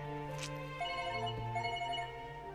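A telephone rings with a steady electronic tone in a Bollywood movie scene, faint and set against a continuous background hum and music.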